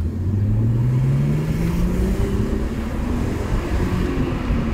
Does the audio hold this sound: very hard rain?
no